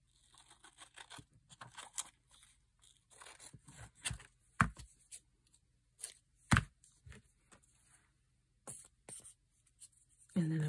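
Scissors snip a strip off a paper window envelope in a quiet room, heard as a series of short, crisp cuts and paper rustles, mostly close, with soft pauses between them.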